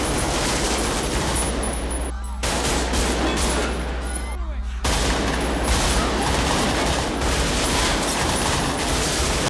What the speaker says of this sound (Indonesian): Adu tembak pun terjadi antara Vincent dan Neil.